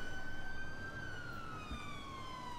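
A police car siren wails steadily in GTA V, a loud continuous electronic tone gliding slowly downward over low road rumble, with no talking.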